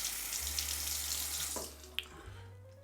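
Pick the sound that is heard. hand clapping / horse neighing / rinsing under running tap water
rinsing under running tap water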